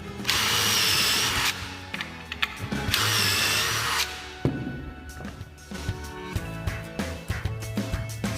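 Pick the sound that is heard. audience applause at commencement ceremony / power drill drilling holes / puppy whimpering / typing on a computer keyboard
power drill drilling holes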